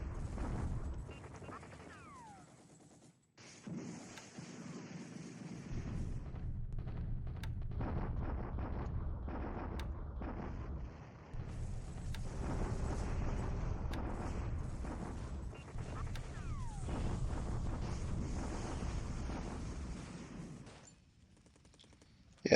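Artillery bombardment in the War in the Pacific video game, heard as faint low rumbling thuds and rolling explosions under someone speaking at moderate volume.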